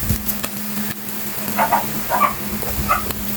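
Garlic frying with crispy corned beef in a pan, a moderate continuous sizzle with a few brief scraping stirs.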